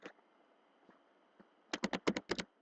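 Computer keyboard keys tapped to enter a command in drafting software, a quick burst of about eight crisp clicks near the end after faint scattered taps, with no talk.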